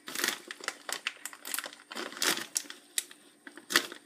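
A plastic oatmeal package crinkles and rustles in irregular bursts close by, with sharp crackling as it is pulled and torn.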